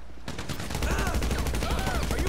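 Minigun fire from Grand Theft Auto V bursts in after a brief quiet moment and becomes a dense, unbroken roar of rapid shots that stays loud to the end, with faint voices beneath it.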